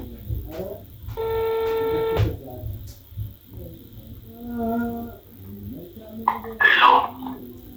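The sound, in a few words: telephone ringing on an outgoing call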